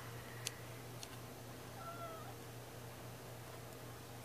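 Domestic cat meowing indoors, a faint short drawn-out meow in the middle of a quiet room with a steady low hum and a couple of light ticks.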